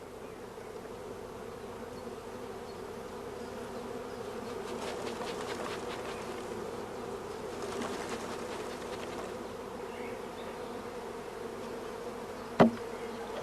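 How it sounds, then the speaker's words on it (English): A shook swarm of young honey bees, brushed off brood frames into a swarm box, produces a steady, continuous buzzing drone with no voices, broken near the end by a single sharp knock. "we brush the young bees off several frames of brood"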